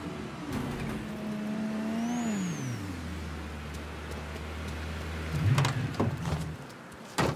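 A car engine in the Mafia 3 video game hums at steady idle, then its pitch sinks as it settles lower, with a short surge of revving and clatter near the end under ongoing game ambience.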